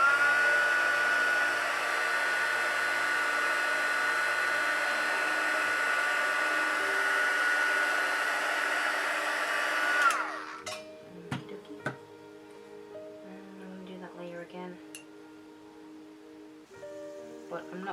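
Heat tool blowing a steady whooshing hum while heat-setting paint on a sculpted kit, running loud for about ten seconds then cutting off, followed by faint clicks and light handling knocks.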